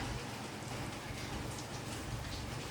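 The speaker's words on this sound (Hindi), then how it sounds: "इतनी भयंकर बारिश होने लगी है, देखो" Heavy rain falls in a dense, continuous hiss without pause, fairly quiet and distant-sounding, with no voices.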